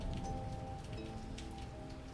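Rain falls steadily on surfaces in a video game setting, a dense continuous patter with scattered droplet hits over a low hum, no talk.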